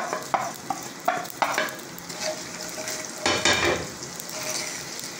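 Ground chili, salt and turmeric fry in hot oil in a pan, with a soft sizzle under repeated scraping and clinking stirring strokes close by.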